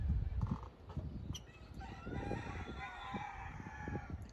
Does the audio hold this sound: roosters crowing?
yes